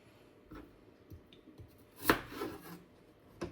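Knife chopping onion on a board in a home kitchen; a few faint, scattered taps with one sharper knock, close but quiet, no talk.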